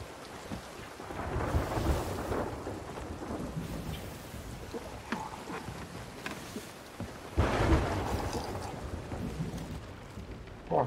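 Heavy rain pours and thunder rumbles in repeated deep rolls during a storm at sea in the pirate game Sea of Thieves, with two louder thunder surges and a steady wash of rainfall throughout.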